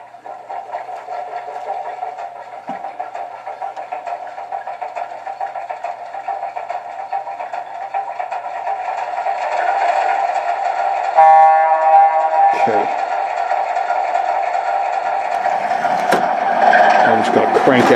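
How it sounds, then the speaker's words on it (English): A model train locomotive runs at full power while stalled against a stack of catalogs weighted with a brick, a steady close electric motor whine and buzz that grows louder midway, with occasional clicks. "the idea is to run this locomotive up against this pile of catalogs"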